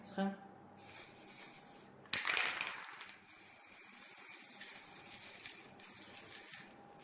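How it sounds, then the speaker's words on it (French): An aerosol can of mirror glaze sprays onto a vanilla panna cotta entremet on a speculoos biscuit from about 20 cm, giving a sudden close hiss that fades over about a second, with softer background sound after. "je vais agiter ma bombe et je vais venir vaporiser sur mon entremets"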